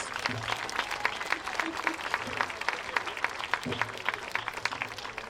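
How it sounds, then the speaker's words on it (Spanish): An audience applauds at a bagpipe band festival in Castrillón, a fairly faint, even patter of clapping that runs throughout with voices talking over it. "Y voy a pediros más aplauso para Guas y para Belén"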